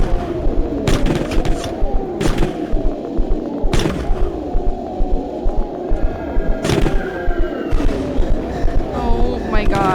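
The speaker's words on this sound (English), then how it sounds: "There's so many bullets!" Rapid bursts of gunfire in the video game Letters of Bernard crackle in repeated volleys over a dense, busy game soundscape, with loud sharp cracks standing out every second or two.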